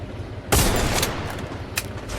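Gunfire in a team-based shooting video game bursts out suddenly as a loud, dense volley that rings on briefly, followed by a couple of fainter shots.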